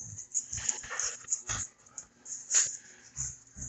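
A dog whimpers and whines in short, breathy bursts with high squeaky yips, close to the microphone, with no talking.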